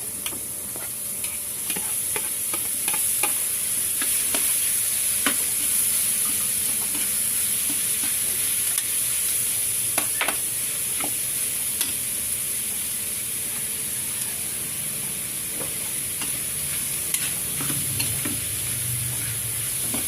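Fish sautéing in a pan sizzles and fries steadily for the whole stretch, with scattered clicks and scrapes of stirring over a constant high hiss, and no talking.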